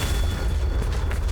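A Confringo fire spell explodes in Hogwarts Legacy, a single heavy boom with a deep, rumbling low end lasting about a second.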